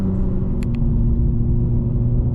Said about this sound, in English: Oh, beautiful Porsche going by